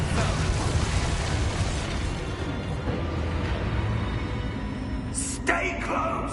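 A spell explosion in the Hogwarts Legacy video game, a loud, sustained rumbling blast under battle noise, ending in a few sharp bright bursts.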